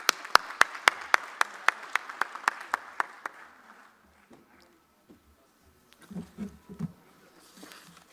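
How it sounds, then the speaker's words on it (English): At a conclave on global capability centres, sparse, crisp hand claps ring out one after another in a steady beat for a chief guest, fading after a few seconds before a faint voice is heard. "Please give big round of applause."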